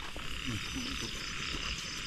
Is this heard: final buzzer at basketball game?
no